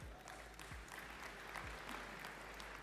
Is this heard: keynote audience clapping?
yes